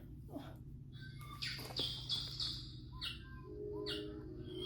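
Electronic bird calls and chirps from a children's sound book play in short bursts over a steady low hum, somewhat tinny, like a small speaker reproducing birdsong.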